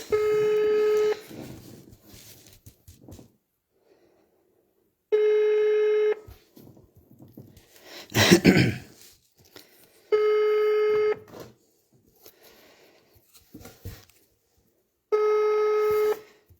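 A telephone ringback tone repeats in long evenly spaced bursts, with a brief rustling clatter between two of the rings.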